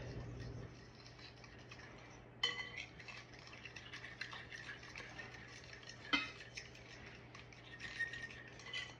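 Spoon stirring gelatin powder into a marshmallow root infusion: soft repeated clinks and scrapes against a dish, quiet and close, with a low steady hum underneath.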